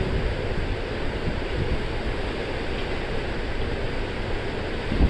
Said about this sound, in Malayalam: നല്ല കാറ്റടിച്ചുകൊണ്ടിരിക്കുകയാണ്.